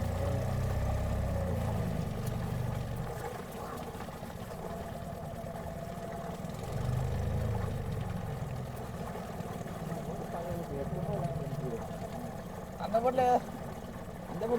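A boat engine runs steadily at sea, a low idling drone that continues throughout under people talking, with a brief clatter near the end.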